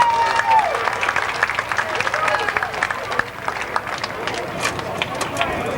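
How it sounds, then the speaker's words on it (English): Crowd applause at the Columbus Motor Speedway, scattered clapping and cheering from a grandstand audience, moderately loud and continuous, with brief voice at the start. "Let's give Woody a big round of applause."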